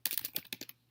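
A computer keyboard clatters with a quick burst of about eight close, crisp keystrokes lasting under a second, no voices.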